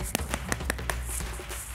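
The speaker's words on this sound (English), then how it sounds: "Give a little clap." Young children in a pre-K church service clap their hands a few times: sharp, scattered claps spaced unevenly over a steady low background hum, fairly close and moderately loud.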